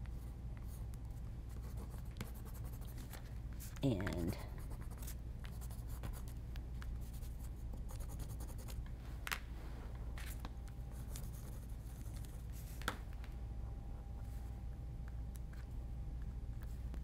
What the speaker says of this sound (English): Let's use some colored pencils.